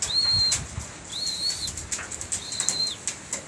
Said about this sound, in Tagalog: Ang mga kalatrip, nandiyan na ang ibon niya.